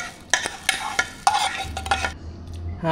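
Garlic shrimp sizzles in a pan while a utensil scrapes and stirs in short, irregular strokes, close by with no talking.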